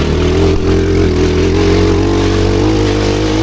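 A go kart fitted with a cheap 250cc five-speed engine roars loud and close with steady engine drone and brief dips in pitch.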